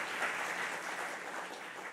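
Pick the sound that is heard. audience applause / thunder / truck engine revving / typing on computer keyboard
audience applause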